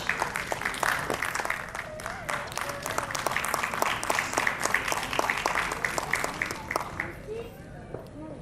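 Audience applause at an award felicitation ceremony for students, a steady broadband wash of many hands clapping that fills the hall, with a voice speaking over it before the clapping thins out near the end.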